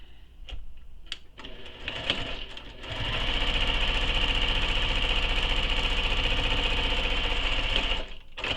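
A home sewing machine runs steadily, stitching fabric for a handmade stuffed toy, its rapid needle chatter loud and close for about five seconds after a few quieter clicks and handling sounds.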